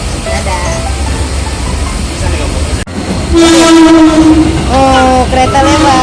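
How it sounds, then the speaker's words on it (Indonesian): A train rolls past loudly near a rider aboard a train bound for Tanah Abang, with a sustained horn blast partway through and rumbling wheels throughout; people talk over it. "Oh, kereta lewat."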